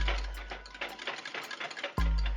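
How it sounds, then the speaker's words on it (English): A whisk clicking quickly against a bowl while combining Alfredo sauce ingredients with grated Parmigiano-Reggiano, a steady light ticking rhythm, close and moderately loud. "Whisk to combine."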